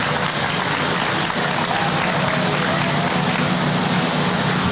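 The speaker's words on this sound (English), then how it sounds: "Let's give them a round of applause if you would," The crowd at a 2025 4-H beef cattle show gives a dense, steady round of applause that holds evenly for several seconds and fills the arena.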